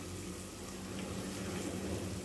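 Tamarind water is poured into rice for puliyodharai, a soft, steady stream of liquid hissing quietly and continuously at low volume with no speech.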